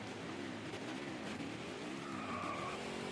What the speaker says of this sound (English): We're burning out.